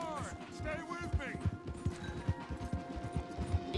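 Horses gallop in the game Red Dead Redemption 2, a rapid, steady drumming of hooves under a voice speaking over the ride.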